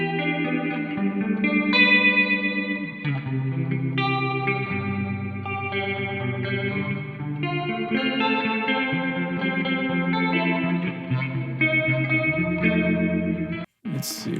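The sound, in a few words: guitar with phaser effect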